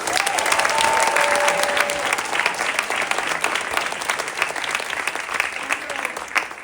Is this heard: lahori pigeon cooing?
no